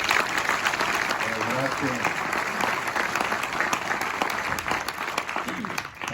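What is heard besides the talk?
audience applause for the organizers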